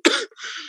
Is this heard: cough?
yes